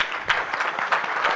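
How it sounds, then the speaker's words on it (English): A brief burst of dense applause rises from a conference session audience, a continuous wash of many hands clapping at once. "let's give him a round of applause."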